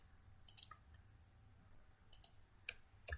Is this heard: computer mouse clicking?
yes